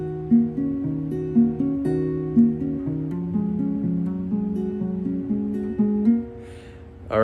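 An acoustic guitar plays a riff, repeating note patterns with hammer-ons and soft plucked attacks, close and clear with no talk.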